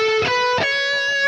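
Heavily distorted electric guitar plays a quick descending switchback lick, a few bright sustained notes stepping downward in just over a second, loud and alone.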